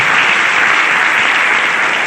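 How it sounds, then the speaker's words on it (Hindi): Loud, dense applause from a seminar audience fills the room steadily from start to finish, many hands clapping together with no break. "मैं चाहता हूं उनके लिए एक बार ताली होनी चाहिए।"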